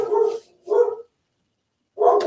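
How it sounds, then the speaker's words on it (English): A dog barks loudly and close by in three separate bursts with short pauses between them, set off by a car pulling into the driveway; there are no voices. "Somebody has pulled up to our driveway, so my dog's freaking out."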